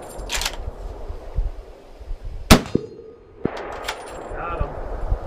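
A 300 Win Mag rifle bullet strikes a steel target and gives one sharp metallic clang that rings briefly. It stands out against quiet outdoor background noise.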